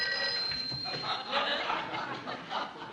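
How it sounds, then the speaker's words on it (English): A telephone rings in a sitcom scene, a high electronic tone at the start under chuckling and laughter, with a voice talking. "the phone's ringing"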